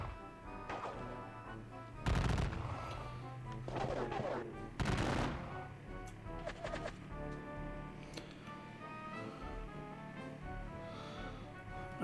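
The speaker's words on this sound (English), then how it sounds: "They're shooting at my skirmisher screen." Gunfire erupts in a Napoleonic wargame as a volley strikes a skirmisher screen at Waterloo, with two loud bursts of shots and crashing reports standing out over a steady battle din, then scattered further firing.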